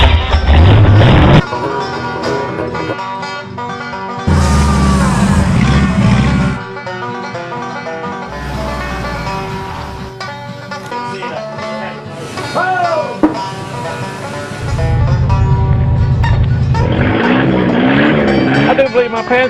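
A 1950 Chevy engine turns over in bursts and then catches. It runs rough and loud with revving surges, and voices can be heard talking between the engine noises.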